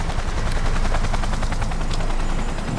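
A helicopter roars loud and close in the Cyberpunk 2077 video game, its dense rotor chop mixed with bursts of gunfire.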